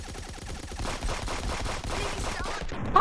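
Rapid automatic gunfire from a gun in the game Friends vs Friends, a continuous moderately loud rattle of shots with no talking.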